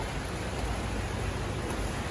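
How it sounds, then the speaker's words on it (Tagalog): Steady rain falling outdoors after a heavy downpour, a dense even hiss that stays constant and fairly loud throughout, with no voices. "Pero ulan pa rin siya."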